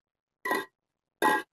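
Two separate bright taps on a segment of an Orca Galaxy carbon fishing rod, each short ringing clink lasting about a quarter second with silence between, close and clear.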